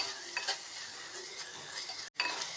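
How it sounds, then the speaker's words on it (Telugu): Vegetables, including carrot and corn, sizzle in a pan while a spoon stirs them, close and steady, with light scraping strokes over a continuous frying hiss. "అలా కలుపుకుంటా వేయించుకోవాలి"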